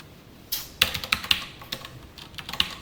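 Quick bursts of clicky keystrokes on a computer keyboard while code is typed, close and crisp, in short irregular clusters with brief pauses.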